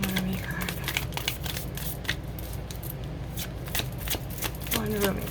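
A Rumi oracle card deck being shuffled, continuous close riffling and flicking of cards with sharp snaps throughout, a voice speaking faintly beneath at the start and end.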